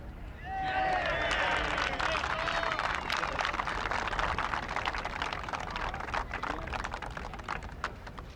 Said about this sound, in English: Did you hear that roar go up from the crowd?